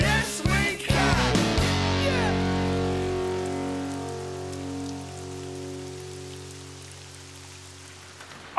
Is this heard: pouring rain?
yes